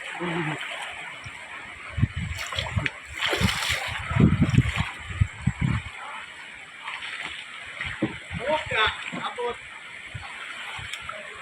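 Water splashing and sloshing against a boat moving on a river, with gurgles and bursts of spray, while people talk and shout nearby.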